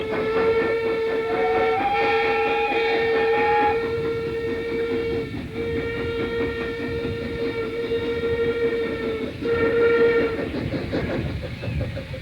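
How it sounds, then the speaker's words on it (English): A steam train pulls into a Kent and East Sussex Railway station on a preserved line, its long whistle sounding twice over a continuous heavy rumble of wheels and locomotive, loud and close throughout. "this is the first train to enter the station"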